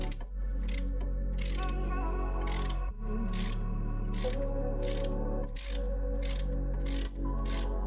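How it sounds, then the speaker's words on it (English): A 17mm wrench socket works a ratchet on a rear sway bar drop link of a BMW E90, giving a close, steady run of rapid metallic clicks in repeated bursts with brief pauses between strokes. "I found it easier to remove it with a wrench socket 17mm as it gave me more advantage over strength"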